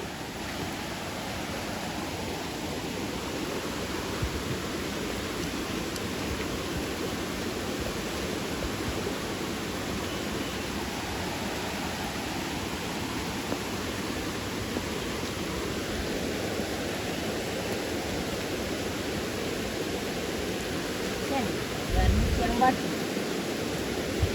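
Rising floodwater flows with a steady, broad rushing wash that stays constant and fairly faint, broken only by a short bump of handling noise near the end.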